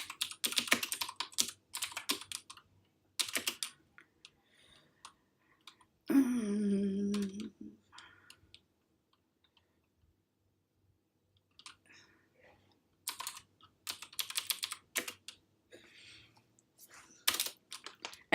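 Typing on a computer keyboard in bursts of rapid clicks, with a pause mid-way where a brief low hum or voice-like tone sounds before the clatter of keys resumes, close and fairly clear.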